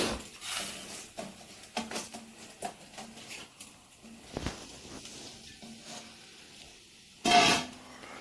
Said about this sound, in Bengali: এখন আমি চালটা ফেলে দেবো। এই যে চালটা দিয়ে দিচ্ছি।